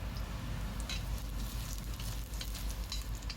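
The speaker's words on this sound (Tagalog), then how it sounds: "igisa lang natin nating luya hanggang sa humalimuyak yung amoy niya" Ginger sautés in hot olive oil with a steady, close sizzle and soft crackling spatters, continuous and even throughout.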